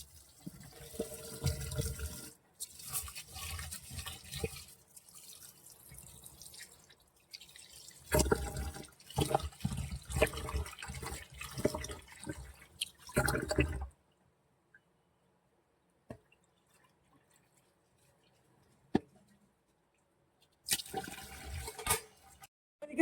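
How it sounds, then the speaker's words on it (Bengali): Rice is washed by hand in water in a kitchen, with sloshing, splashing and dripping in uneven bursts, a long quiet stretch in the middle, then a final short burst of swishing. "আমি চালটা ধুয়ে নেবো।"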